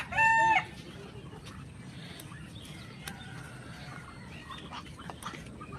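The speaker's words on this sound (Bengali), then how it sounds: "সামনে দেখো অনেক হাঁস মুরগি" Beside a canal where chickens and ducks gather, a rooster lets out one loud crow at the start, followed by faint scattered clucks and rustling in the quiet outdoor air.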